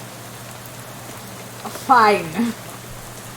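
Steady rainfall at night in the video game Shadows Over Loathing forms a constant, even hiss throughout, while someone briefly speaks over it.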